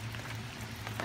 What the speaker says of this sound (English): You see that it's pouring rain.